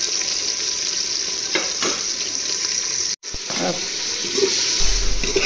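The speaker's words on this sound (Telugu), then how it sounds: "ఉల్లిపాయలు బాగా వేగిస్తూ చూడండి." Onions fry in a pan with a steady, close sizzle, broken by stirring and a short pause, with no talk.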